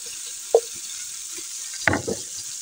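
Roughly chopped onion frying in a pan, a faint steady hiss broken by two spoon knocks or stirs, close but quiet, no voices.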